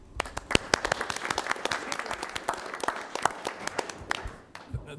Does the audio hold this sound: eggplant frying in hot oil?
no